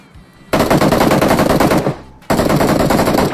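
Loud automatic gunfire in the mobile shooter PUBG Mobile: a long, rapid burst, a brief pause, then another sustained burst of close, dense shots, with no speech over it.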